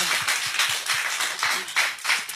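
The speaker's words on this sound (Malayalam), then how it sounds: "പക്ഷെ കലക്കി ഒരു കൈയടി കൂടെ കൊടുക്കുക" An audience at a Shahabaz event claps in a quick, rhythmic burst of hand claps, a close and steady patter lasting a couple of seconds with no voices over it.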